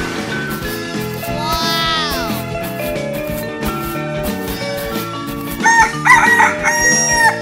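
A rooster crows with a rising, wavering cock-a-doodle-doo call set in a children's animal song, heard over loud music with a child's exclamation.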